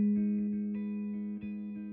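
A dreamy ambient lofi guitar chord progression picked in the same steady pattern on each chord, notes ringing and overlapping into a warm, effects-soaked wash with soft regular plucks, alone and close.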